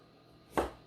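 A knife trims the brown tips off a cauliflower on a cutting board, producing one short, fairly close chop that stands alone in an otherwise quiet kitchen.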